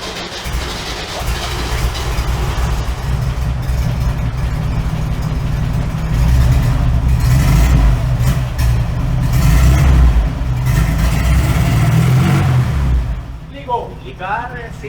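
A Volkswagen Fusca engine runs hard and loud in a continuous roar that climbs in intensity in the middle, then cuts off near the end, leaving brief quieter sounds.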